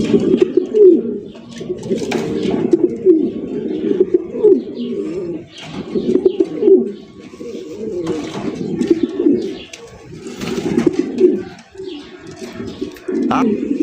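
Indonesian racer pigeons cooing repeatedly in low, rolling calls, close by, with a person talking over them at times.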